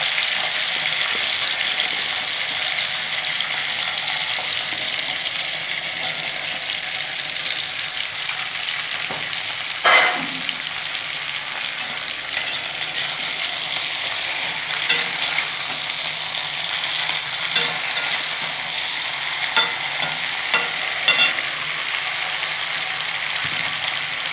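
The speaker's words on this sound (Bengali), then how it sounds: "ভেজে নেবো সবজিগুলো ভালো করে।" Washed mixed vegetables frying in a pan, a steady bright sizzle running throughout with occasional scraping and clinking as a spoon stirs them, fairly close.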